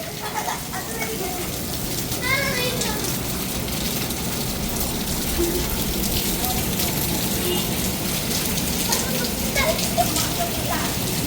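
Steady rain falls in Saudi Arabia, a continuous close hiss of drops on hard surfaces, with faint voices in the background throughout.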